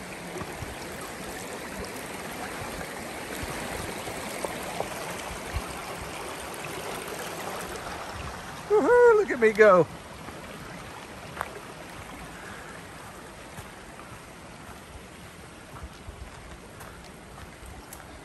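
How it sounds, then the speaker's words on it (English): A stream flows beside a hiking trail on the Appalachian Trail, a steady soft rush of water in the background, briefly interrupted midway by a person's excited shout. "You can hear the stream off to my right now."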